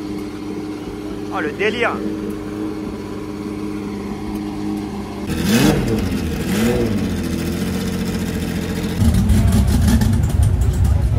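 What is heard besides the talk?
Porsche 917 race car engine starting and revving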